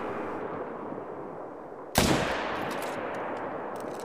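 A single 300 magnum rifle shot in theHunter: Call of the Wild, one sharp, loud crack bursting out of quiet outdoor ambience, then a rolling echo that fades slowly across the landscape.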